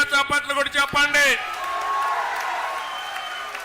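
At a political rally, a voice speaks briefly before a large crowd breaks into sustained applause that carries on steadily to the end.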